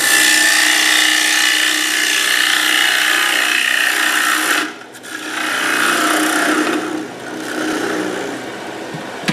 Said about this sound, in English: now I'm going for finishing cuts. I want it to be finer. I'm just going to go in here and just remove some material.